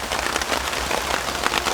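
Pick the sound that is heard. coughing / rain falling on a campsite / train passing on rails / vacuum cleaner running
rain falling on a campsite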